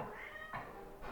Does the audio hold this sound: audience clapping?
no